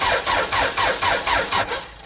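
A car engine cranks over with the battery just switched on, the starter turning in a steady rhythmic chug of about seven even pulses over two seconds, close and fairly loud, with no catch or start.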